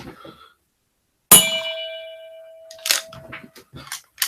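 A single bell is struck once, giving a sharp clang with a long, clear ringing tone that decays over about two seconds, followed by some soft knocks and rustles.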